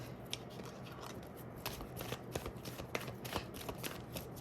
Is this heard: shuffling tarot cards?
yes